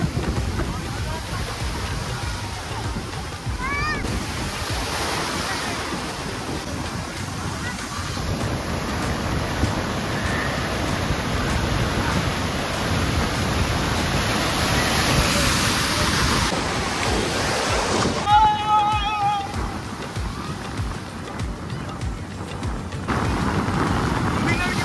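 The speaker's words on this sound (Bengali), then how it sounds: "আর প্রচণ্ড কিন্তু পরিমাণে কিন্তু ঢেউ আসছে" Rough, churning sea surf breaks at Puri beach on the Bay of Bengal as a steady broadband wash, loud and continuous throughout, with wind noise and occasional faint voices and whistles in the background.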